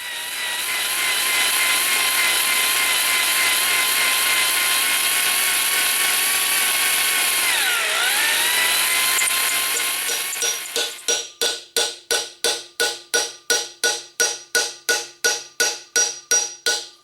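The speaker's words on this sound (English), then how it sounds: "I'm going to start drilling." A drill grinds steadily into the axle collar of a Ford 9N/2N tractor for about ten seconds, its pitch dipping under load, then falls into a series of short repeated bursts; no one speaks.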